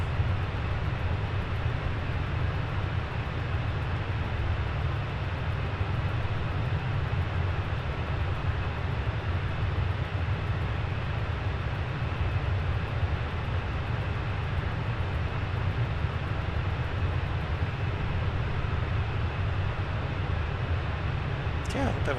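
Airliner engine drone from an Aer Lingus Airbus A320 in the Fenix flight simulator, a steady broadband roar that holds level and continuous throughout, with talk seemingly blended in underneath.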